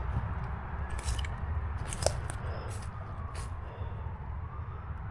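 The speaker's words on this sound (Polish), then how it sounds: "Znowu karetka idzie, znowu nagrywam film i znowu karetka idzie." A distant ambulance siren wails faintly in the background over low, steady rumbling ambient noise at night in a forest, with a few soft clicks and rustles nearby.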